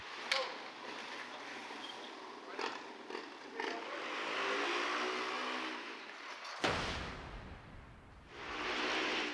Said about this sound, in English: First, Rondell makes a trial run to get his timing.